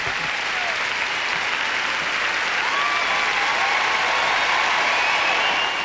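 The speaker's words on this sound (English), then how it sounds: "Biggest reaction yet from this boisterous crowd here in Vancouver" A boisterous arena crowd applauds and cheers at the World Figure Skating Championships in Vancouver, a sustained loud wash of clapping that holds steady throughout.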